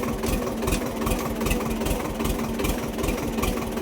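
A tractor engine running steadily on a muddy, rough village road, a loud, continuous low chugging throb with a constant rumble and no pauses.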